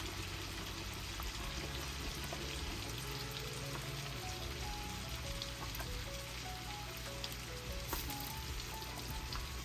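Green peppers and onions sizzle and crackle steadily in a hot pan, a dense continuous frying hiss with faint low background hum.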